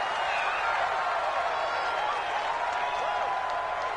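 Stadium crowd in a PS4 American football video game roars in a steady, dense wash of cheering and murmur, continuous and fairly loud.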